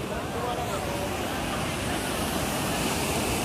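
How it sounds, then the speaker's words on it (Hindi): Ocean waves wash in at R.K. Beach in Vizag, heard as a steady, loud broadband roar of surf with a little wind noise across the whole stretch. "देख सकते हैं पानी कैसे आ रहा है यहाँ पे"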